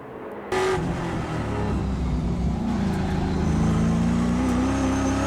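Trans Am race cars battling at Thunderhill, V8 engines droning loud and close with a rising pitch as they accelerate along the circuit.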